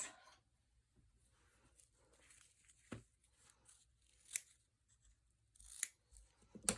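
Scissors snip through ribbon being trimmed on a mini scrapbook album, giving a few sharp, close cuts spaced apart in an otherwise quiet room.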